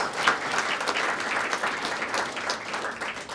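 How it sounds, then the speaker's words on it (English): A crowd applauds, steady dense clapping that holds at an even level throughout, with no voices standing out. "let's give them a round of applause for scholarship sponsors"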